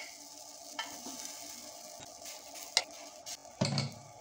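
Appe batter with a little oil cooking in an appe pan, a soft steady sizzle near the pan broken by a few faint clicks and a clatter of metal near the end.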